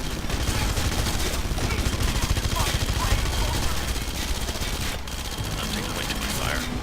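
Enemy gunfire in the video game Red Faction: Guerrilla, a dense continuous barrage of rapid automatic shots and impacts at steady loudness, with a voice talking over it at times.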